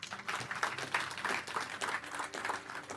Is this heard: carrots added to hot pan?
no